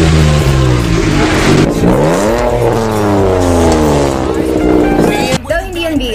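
A car with a resonator delete revs hard and loud, its exhaust rising and falling in repeated sweeping surges with a raspy drone, ending in a sharp final blip.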